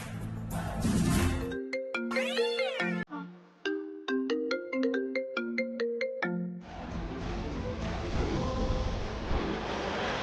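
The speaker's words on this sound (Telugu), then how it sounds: "ఇంకో కాల్ కి ఫోన్ రింగ్ అవుతుందా?" A mobile phone ringtone plays for an incoming call, a bright melodic run of repeated electronic tones lasting several seconds between bursts of noisy background sound.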